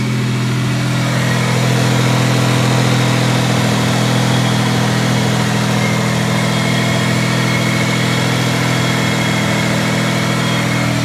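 A small engine, its condition uncertain, idles steadily after being started, running cold and unrevved with a constant loud drone and vibration throughout, no voices.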